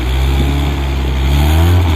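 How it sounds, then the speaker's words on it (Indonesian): A 1992 Honda Accord Maestro fuel-injected engine runs loud and close, its pitch rising as it revs up over about two seconds. "Yuk, coba bisa digas"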